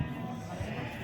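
Sheep bleat at a crowded livestock market, a brief quavering call rising over a low murmur of the surroundings, moderately close.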